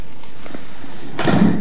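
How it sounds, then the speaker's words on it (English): A heavy security-room door in the Outlast horror game closes with one solid thud near the end, after a brief quiet stretch and a few soft clicks. "Close the door!"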